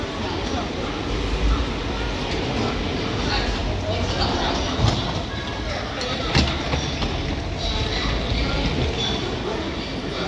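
The Shanghai maglev train rumbles steadily at close range, a broad low hum with faint rattles and a couple of soft thumps as it rolls into a platform and stops.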